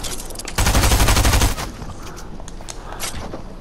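A grenade launcher firing in a video game: a loud burst of rapid fire lasting about a second, then a quieter rattle of scattered shots and pops.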